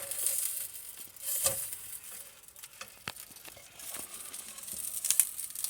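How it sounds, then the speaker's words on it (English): Marked-down pork chops frying in a pan for dinner in a camper van, a continuous soft sizzle with scattered pops and crackles, close and moderate in level. "Steve found some pork chops that were marked down at Walmart, so we're cooking them up tonight"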